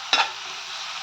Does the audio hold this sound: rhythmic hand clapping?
no